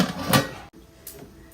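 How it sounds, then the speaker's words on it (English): A metal lid clanks down onto a boiling pot of clams for a seafood boil with a sharp rattle, followed by a couple of lighter clinks nearby. "we're gonna cover the pot and let that boil."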